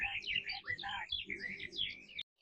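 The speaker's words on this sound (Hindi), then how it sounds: "पक्षियों की चहचहाहट से पूरा जंगल जीवंत लग रहा था।" Many birds chirp and tweet in a sunlit green forest, dense overlapping high calls running continuously and fairly close, with a soft low rumble underneath before cutting off abruptly at the end.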